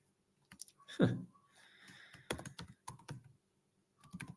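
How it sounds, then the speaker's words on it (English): Computer keyboard typing heard up close: scattered clicks and quick bursts of keystrokes with short pauses, fairly quiet, alone with no talking. "So it's sometimes my typing is horrible, guys."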